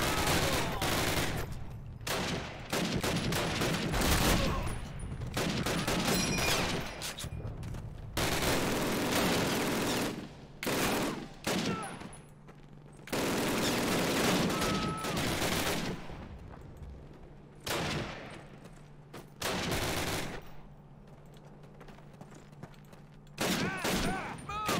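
Rapid bursts of gunfire fill a Call of Duty 1 American campaign battle at Brecourt Manor, with loud repeated volleys and automatic fire broken by short lulls.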